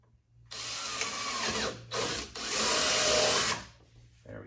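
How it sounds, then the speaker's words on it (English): Power drill boring a hole to fit a universal license plate mount on a UTV, loud close bursts of whining drilling with a brief pause between them, then winding down. "drill a hole right there."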